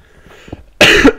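A man's coughing fit, loud and close to the microphone, with a burst of harsh coughs followed by one more short cough after a brief pause, preceded by faint low background noise.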